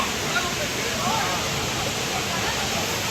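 Fresh mountain water rushes steadily at Nethravathi peak as people play in it, a broad continuous wash of water noise close by with faint voices mixed in.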